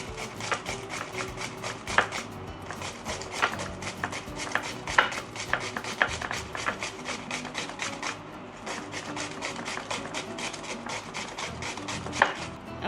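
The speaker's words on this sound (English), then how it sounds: "I'm just gonna grate it." Cucumber rasped back and forth on a papaya grater, a dense run of quick scraping strokes in a steady rhythm, close and moderately loud, with brief pauses between bursts.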